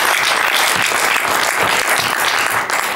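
Loud, close crowd applause at an awards event honoring a starter of the year, a dense continuous clapping that holds steady throughout.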